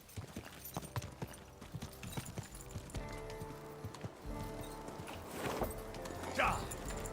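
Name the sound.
horse hooves while riding in video game Kingdom Come Deliverance 2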